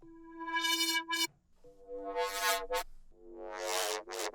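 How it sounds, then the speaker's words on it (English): A wobbling synth bass from a Serum preset sweeps open and closed in three phrases, its filter rising and falling rhythmically, loud and up front with brief silent gaps. "The next sound is Inertia Wobbler."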